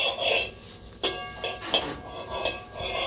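Cashews roasting in ghee are stirred in a pan over a wood-fired stove, making a few sharp metallic scrapes and clinks over a steady sizzling hiss, close by with no talking.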